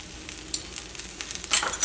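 Ketchup goes into a hot pan for a chapati breakfast dish, bringing a short, close burst of sizzling and stirring that grows louder toward the end.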